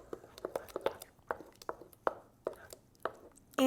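Coconut oil and mashed bananas being stirred in a bowl for vegan banana bread, heard as soft irregular taps and squishy scrapes of a utensil in quick succession, close and quiet.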